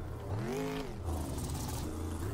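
A monster truck engine in the Rigs of Rods driving game revs up and settles, a loud continuous motor drone with a rising and falling pitch sweep near the start, then a steady rumble.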